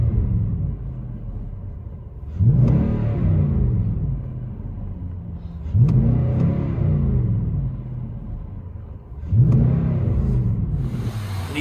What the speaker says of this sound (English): There it is. Nissan Titan Midnight Edition. Tell us what you guys think. Hope you guys like the sound.